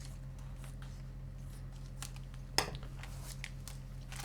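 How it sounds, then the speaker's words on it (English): Scissors snip into a plastic package of thick, zesty beef jerky up close, one sharp crisp cut standing out against faint background hum, followed by a few light crinkles of the wrapper. "I am going to cut this with scissors, just because it's hard to tear stuff when I'm this close to the camera"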